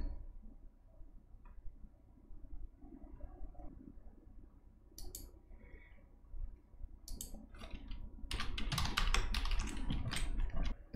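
Keys on a computer keyboard tap in quiet, uneven runs that turn into a denser, louder flurry of typing near the end.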